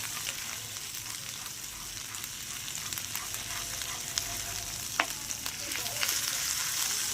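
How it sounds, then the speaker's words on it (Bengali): Mustard-style parshe fish frying in a pan as turmeric powder is stirred in, giving a steady background sizzle with occasional faint spatula scrapes and taps, fairly quiet and with no voices. "নাড়িয়ে নেব"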